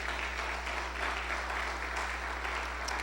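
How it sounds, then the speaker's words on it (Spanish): Steady, dense applause from a large church congregation, sustained throughout with a low constant hum underneath. "Denle un fuerte aplauso al Señor en acción de gracias."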